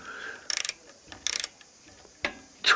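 A wrench ratchets on the rear brake cylinder of a 2000 Chevy 3500 dually, two quick runs of close clicks followed by a couple of sharper metallic knocks, with no voice.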